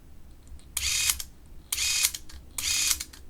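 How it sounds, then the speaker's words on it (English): A Minolta XL-400 Super 8 film camera's shutter mechanism runs in three bursts of whirring, ratcheting clatter, each lasting about half a second, close up with quiet gaps between. "Watch what happens when I run the shutter."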